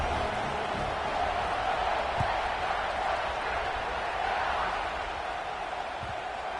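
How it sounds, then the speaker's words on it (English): A stadium crowd in the College Football 26 video game roars steadily at a moderate level throughout, a constant bed of cheering with a faint voice now and then. "this crowd is feeling themselves after that last drive"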